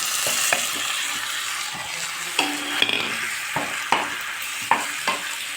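Cooked pasta sizzles in hot oil in a pan, a constant close frying hiss broken by occasional scraping taps as a spoon stirs and tosses it, with no one speaking.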